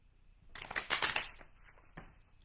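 Cards shuffled for a tarot-style reading, a brief soft riffle of paper cards close by that flutters for about a second, then a single tap, with no talk.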